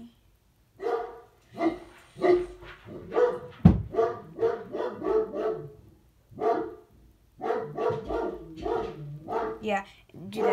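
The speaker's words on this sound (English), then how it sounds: "My dog is barking." A dog barks in the background while a person talks steadily over it, with one sharp, loud bark-like burst partway through.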